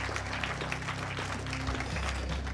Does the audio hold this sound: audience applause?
yes